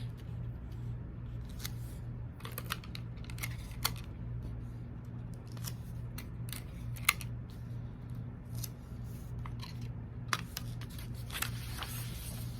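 Scissors cut along the lines of a printed paper PDF sewing pattern, with a string of short, crisp snips at an irregular pace over a steady low hum, close and fairly quiet.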